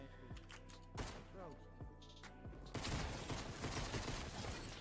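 Rapid gunfire bursts from Fortnite weapons crack through game audio, several quick shots early then a denser burst of firing in the second half, with a voice talking underneath.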